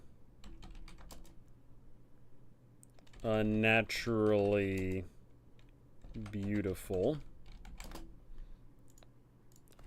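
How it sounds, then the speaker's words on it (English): Fast typing on a computer keyboard with dense, irregular clicks runs steadily throughout, fairly close, while someone speaks over it in two short stretches. "Once again, I am terrible at typing."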